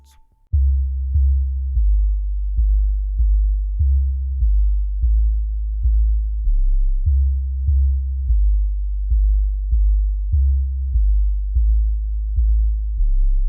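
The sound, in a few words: 808 sub bass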